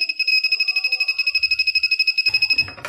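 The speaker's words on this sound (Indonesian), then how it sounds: "Ini ada suara buzzer karena tidak terhubung ke bagian perangkat lainnya." The control board buzzer of an SWF embroidery machine, being upgraded from type D to GE Plus, sounds a loud, rapid, evenly pulsing high beep for nearly three seconds before stopping amid a few handling clicks.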